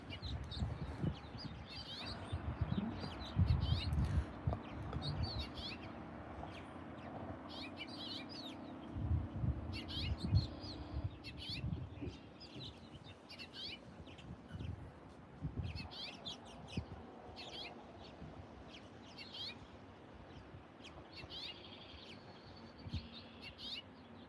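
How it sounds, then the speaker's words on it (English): Scattered bird chirps and tweets outdoors over a steady background hum, with occasional fowl-like clucking and a faint voice at times. "Do you hear those birds?"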